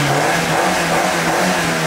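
Fiat Uno with a Corvette engine, turbo and air suspension revs loudly and steadily nearby at a carnival, a sustained throaty drone with no voices over it.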